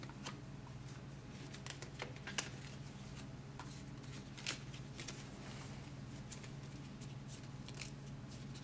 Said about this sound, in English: I take each individual pile, do a light shuffle of each